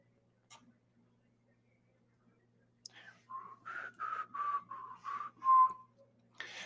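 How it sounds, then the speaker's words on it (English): A person whistles a short tune of about six distinct notes, close and clear, after a quiet pause with faint ticking in the background. "I have to relearn how to whistle"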